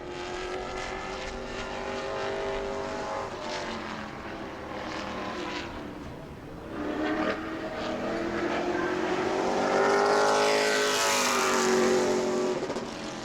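Pro Late Model race car at New Smyrna lapping during a qualifying session, its engine a loud sustained roar that dips briefly, then swells again as the car passes close by and pulls away.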